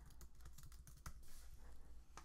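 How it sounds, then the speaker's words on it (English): Fingers type on a computer keyboard in a fast, irregular run of light key clicks with one firmer tap near the middle, close but faint, with no talking. "let's say I'm typing in here"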